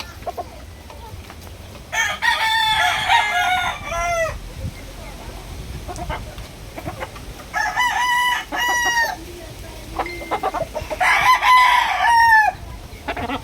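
A Sweater gold gamecock rooster crows several times in separate bursts, each a loud, drawn-out call, with quieter clucking and background noise between them.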